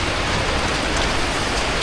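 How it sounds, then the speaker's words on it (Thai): Steady rain falls during a laundry trip in Malaysia, a dense, even hiss of drops pattering on a surface, loud and close, continuous for the whole stretch with no voices. "โอ้ฝนตก"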